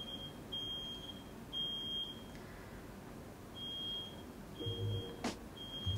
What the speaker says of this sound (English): I love that the smoke alarm is just going off